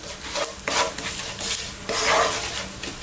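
Whole spices frying in hot oil for a slow-cooked Indian lamb masala curry, a steady close sizzle with scraping stirs and a few louder bursts, no voices.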